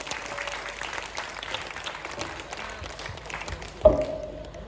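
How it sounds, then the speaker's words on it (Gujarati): An audience claps at a community AGM and award ceremony in Kamrej, a steady wash of applause under a faint voice, ending with a sharp knock near the close. "સનાતન સમાજ માટે આપણે જોરદાર તાળીઓ પાડશું"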